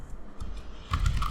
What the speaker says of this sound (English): I can type it as post